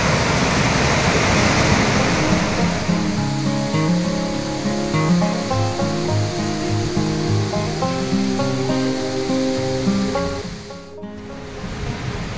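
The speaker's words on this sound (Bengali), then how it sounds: "সবসময় নিচে দিয়েও নদী বয়ে চলেছে" Loud, steady rush of the Deurali river flowing below a glacier on the Annapurna Base Camp trek in Nepal fills the scene without a break, then briefly drops away near the end.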